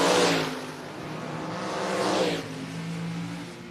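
Drag race cars launch down the strip, a 2013 Camaro against a 69 car. A loud engine roar surges at the start, then dips and swells again as the revving continues, with no voices.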